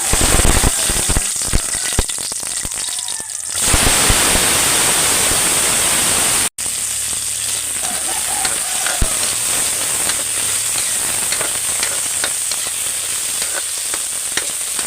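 Food fries in hot cooking oil with a loud, close, continuous sizzle that goes on for about fifteen seconds. A brief cut interrupts it midway, and faint crackles and pops sound throughout.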